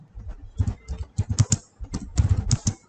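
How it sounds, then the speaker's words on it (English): Keys clatter on a computer keyboard as a git command is typed, a quick uneven patter of close clicks in two bursts with a brief pause between. "So type in git add space dot and press enter."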